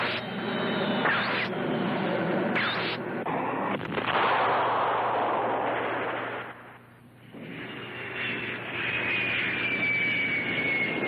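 Jet fighter planes roaring past in a film sound effect, a loud sustained engine roar that surges and fades with sharp blasts and a high whine near the end.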